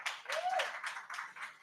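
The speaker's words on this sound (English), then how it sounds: "Let's give a hand clap to our presenters" Audience at a community meetup clapping for presenters, a short burst of hand claps with a voice speaking over it.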